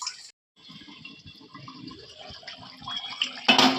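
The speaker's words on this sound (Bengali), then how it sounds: "এর মধ্যে একটু জল অ্যাড করবো" Water poured into a pan of spiced pointed gourd curry, a light steady trickle with faint splashing that grows into a brief louder gush at the end, close, with no talk.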